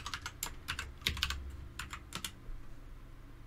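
Someone types a password on a computer keyboard, a quiet close burst of about a dozen crisp key clicks in an uneven rhythm, with no voices.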